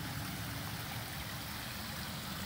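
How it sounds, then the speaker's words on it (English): Four small waterfalls spill into a backyard garden pond in Manhattan Beach, California. Soft, steady rushing and splashing water continues without a break, fairly quiet and unbroken by voices. "It's a four waterfall pond"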